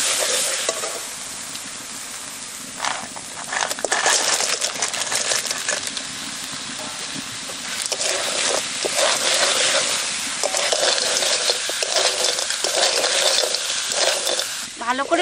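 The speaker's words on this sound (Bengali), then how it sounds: "ভালো করে মশলার সঙ্গে কাঁকড়াগুলো কষিয়ে নিলাম" Fried crabs being stir-fried with spice masala in a pan, loud close sizzling with dense clattering and scraping as the pieces are turned and tossed, continuous throughout with no talking.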